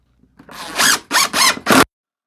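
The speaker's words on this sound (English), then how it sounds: "mark and pre-drill all these." A power drill whirs in four short bursts, each a second or less, pre-drilling wood, close and loud, with brief pauses between.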